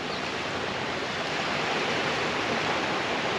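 Steady broadband rush of river water pouring through a water control structure on a large river, loud and continuous with no voices.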